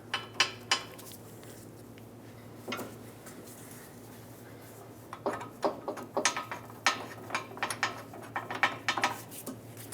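Mounting nuts go onto a catalytic converter on a 1998–2002 Lincoln Navigator with quick clusters of ratcheting clicks and metallic taps, in short bursts with a longer run near the end, close up.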